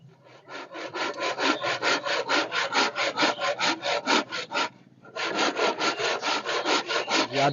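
Hand saw cutting through small wooden planks to even them up, a steady rhythm of close, rasping back-and-forth strokes that pause briefly and then resume, with no talking.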